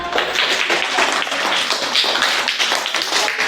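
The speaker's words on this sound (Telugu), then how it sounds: "క్లాప్స్ కొట్టండి" Children in a fourth-grade classroom clap their hands together, a dense, steady patter of many palms lasting the whole moment, fairly loud and close, with no talking over it.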